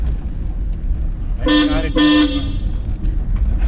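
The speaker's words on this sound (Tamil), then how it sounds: "ஒரு ஆட்டாக்காரருக்கு தான்க்கா நான் ஹார்ன் அடிச்சேங்க்கா" Two loud, close car horn blasts in quick succession from a car during a driving lesson, honking at an auto-rickshaw, over a rumbling engine and road noise.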